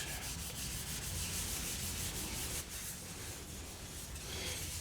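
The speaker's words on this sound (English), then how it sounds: "Buffing it out here with an old piece of flannel pajamas makes a good buffing rag" An old flannel pajama rag buffs a wooden beer stein with a steady, continuous soft rubbing swish, close and even throughout.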